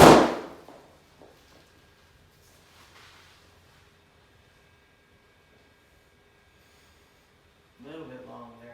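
A golf ball struck from a garage simulator setup into the screen, one sharp loud impact at the start that quickly fades to near silence, followed by brief speech near the end.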